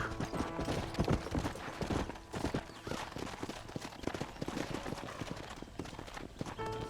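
Horse hooves clip-clopping in the video game Red Dead Redemption, a quick irregular run of hoofbeats close by, with herd sounds and faint background activity mixed in.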